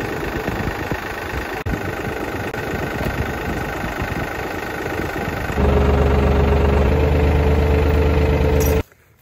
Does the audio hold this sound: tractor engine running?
yes